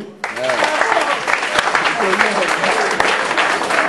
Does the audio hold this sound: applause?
yes